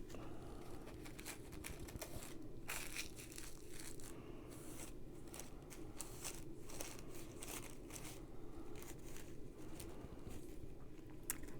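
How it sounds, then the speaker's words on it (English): Tissue paper petals for Halloween flowers are scrunched and threaded onto a pipe cleaner, giving a continuous close, quiet crinkling and crackling with irregular bursts of rustle and no talk. "Thread each one through, gently poke through the pipe cleaner, scrunch it up, and bring it up to the top."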